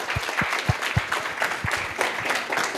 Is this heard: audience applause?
yes